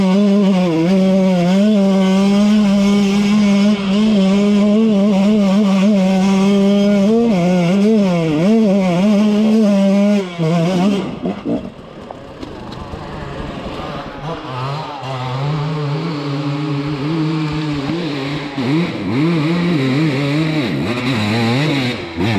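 A KTM enduro motorcycle, 150 or 300 two-stroke, revs hard and close, its engine note swelling and dropping repeatedly, then bogging briefly before climbing again on an uphill trail.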